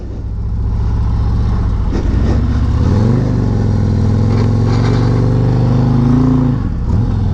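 A Harley motorcycle engine runs steadily up close while the rider slips the clutch plates in and out of the friction zone, its rumble rising and dipping slightly with the load, no talk over it.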